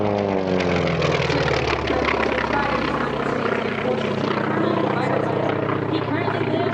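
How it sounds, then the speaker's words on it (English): A T-28 Trojan's radial engine roars loud and close, a steady throbbing propeller drone that holds strongly throughout at an airshow. "Listen to that incredible radial engine with the T-28 Trojan."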